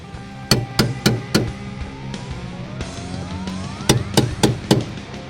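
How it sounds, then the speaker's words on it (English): Metallic hammer strikes on a punch flattening metal on a 1971-1973 Mustang's beltline, four quick ringing blows, a pause, then another burst of four or five hits close by. "just grab a punch and hammer it flat"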